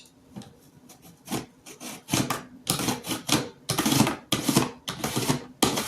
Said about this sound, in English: it is grating the cucumber